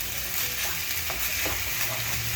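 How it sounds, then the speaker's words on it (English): Baked beans stirred in a hot pot, a brief steady simmering hiss with a few soft spoon scrapes, close and continuous. "all you're going to do is give this a nice good stir"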